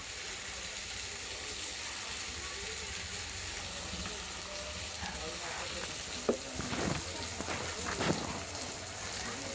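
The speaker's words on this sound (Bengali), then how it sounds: "সুন্দর ফুটতেছে সবজিগুলো সব।" Vegetables bubbling in a pot of noodle broth make a constant soft hiss and simmer, with a few clinks of a utensil against the pot near the end.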